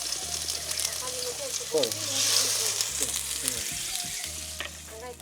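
Tomatoes frying in hot oil for Mettur-style fish curry, a continuous close sizzle with occasional stirring scrapes against the pan and a brief louder hiss partway through, no talk.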